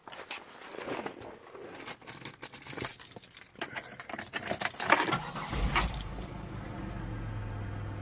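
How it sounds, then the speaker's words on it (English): Buick LeSabre after a fuel pump replacement: keys jangle and clatter close by, then the engine cranks and catches around the midpoint, settling into a steady low idle hum. "Let's see if this car can start up."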